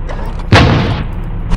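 A single loud, close tank cannon blast booms in the tank battle game War Machines: Tank Clash, a sharp report with a rumbling tail that fades over half a second.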